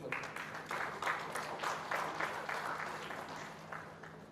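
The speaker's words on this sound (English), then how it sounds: "A big round of applause." Applause from an audience at an entrepreneurship panel, a fairly faint, steady round of clapping that carries on throughout.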